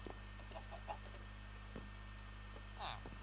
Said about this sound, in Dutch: Ah, nog een kip.